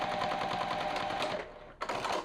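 A sewing machine stitches together rag quilt backing pieces in a fast, steady mechanical chatter, running continuously before briefly pausing and then starting up again near the end.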